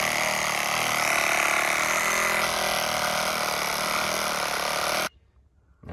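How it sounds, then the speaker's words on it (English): A reciprocating saw cuts a square hole, buzzing loud and continuous at close range for about five seconds, then stops suddenly, leaving near silence. "I'll just hack a square out, trace it, cut it out with a sawzall."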